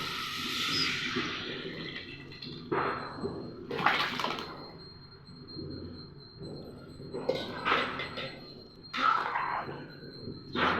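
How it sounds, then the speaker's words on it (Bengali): Prepared potato curry broth being poured into a pan for a Bengali aloo ghat dish, giving bursts of watery splashing and trickling that come and go, with faint background noise between pours. "আলুর ঘাটাটা আমি ঝোল বানিয়ে রেখেছি সেটা আমি ঢেলে দিচ্ছি"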